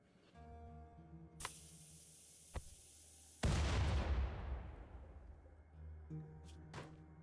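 A sudden loud explosion in the RimWorld colony game, a broadband blast with a long decaying rumble after a high whine and a couple of small pops, set against a low background music drone.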